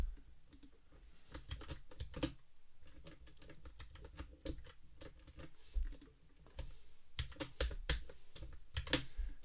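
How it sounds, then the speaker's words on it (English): Fingers type on a computer keyboard at a desk, quick irregular bursts of close, crisp key clicks with brief pauses, no voices. "Struggling to use my keyboard as normal, as per usual."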